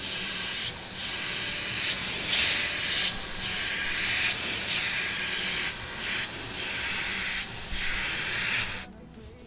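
An airbrush sprays paint onto parts of a Tamiya Volvo FH12 1/14 scale RC truck kit, giving a loud, steady close-up hiss with a few brief dips, and it cuts off sharply near the end.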